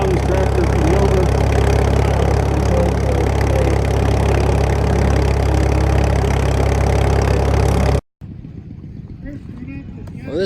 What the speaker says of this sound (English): This is Kyle Young's tractor from Hilbert